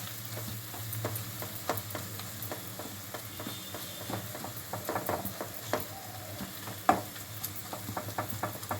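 Ingredients including coconut powder fry in oil for an egg masala curry while being stirred, a low steady sizzle under repeated scraping clicks of the spoon, close by and fairly quiet, with a sharper knock near the end.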